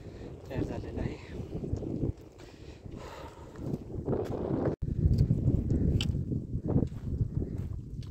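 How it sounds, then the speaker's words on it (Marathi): Wind gusting on the climb up Takmak Fort, a rough, steady rush buffeting the microphone with some footsteps and rustling mixed in. "जसं आपण गडावर जातोय तसं आपल्याला वारा चालू झालेला आहे."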